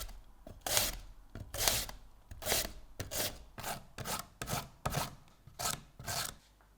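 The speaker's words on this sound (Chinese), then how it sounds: "一段白萝卜， 擦成细丝" A piece of white radish is rubbed over a grater into fine shreds, giving a steady run of close, scraping strokes at an even rhythm, with no voices.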